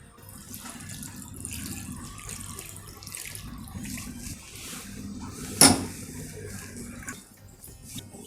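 Cold water runs over paneer in a bowl to wash out squeezed lemon juice, a steady close splashing stream with a sharp clatter of a utensil partway through, no talking.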